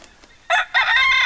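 A Black Minorca rooster crowing loud and close, with a short call followed by a longer sustained crow, over a quiet outdoor background.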